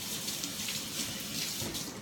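Running tap water pours steadily over boneless chicken breast being rinsed at a kitchen sink, a continuous close splashing hiss with no talking.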